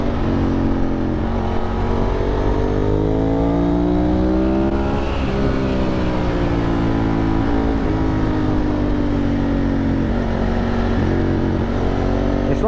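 A Ducati 996 motorcycle riding on a coastal road near Saint-Tropez, its engine droning loud and close throughout, the pitch rising and falling with throttle changes, with wind rush but no talk.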